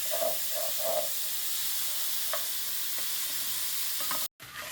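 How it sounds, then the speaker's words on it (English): Onions fry in a pan with a loud, steady sizzle while a utensil stirs them, giving a few soft scrapes and taps, before a brief dropout near the end. "Keep stirring it around to prevent it from burning"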